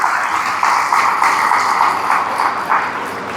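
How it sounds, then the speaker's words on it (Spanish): A church congregation applauds to welcome a guest, a loud, continuous patter of many hands clapping together throughout. "vamos a darle la bienvenida con un aplauso"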